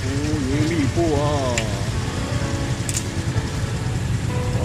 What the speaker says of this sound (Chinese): 结果下大雨了